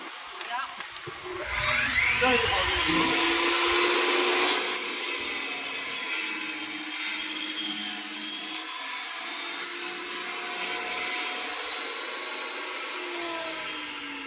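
A table saw rises to a whine and cuts through wood on a crosscut sled, the blade note steady and loud across the cut, with people talking over it.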